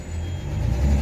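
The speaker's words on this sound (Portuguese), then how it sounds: "Esse barulho que vocês ouvem é do escapamento que encosta assim na longarina e dá umas vibradas." A low, droning rumble with a buzzing vibration underneath, steady and fairly loud: the exhaust pipe of a six-cylinder Chevrolet Opala with a Weber 40 carburetor, running on alcohol, rattling against the chassis rail while the engine runs.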